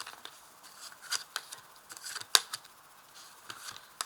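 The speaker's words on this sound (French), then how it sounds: "je vais placer donc 5 cartes" Tarot cards being laid out one by one, soft papery slaps and light shuffling clicks in an irregular rhythm, close and quiet, with no talking.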